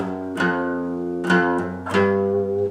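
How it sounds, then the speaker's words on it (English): Guitar bass line from a Hytale tune: open strings with hammer-ons and chromatic movement, three sustained plucked notes ringing out one after another, close and clear with no voices. "So the bass line in total would sound like this."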